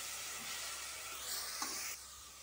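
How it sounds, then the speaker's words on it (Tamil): A ground onion and tomato paste sautés in a cooker for gourd biriyani, giving a continuous bright sizzle and hiss that swells briefly, then eases off near the end; nobody speaks. "இது எல்லாம் நல்லா பச்சை வசனப்போ நல்லா வதங்கட்டும்"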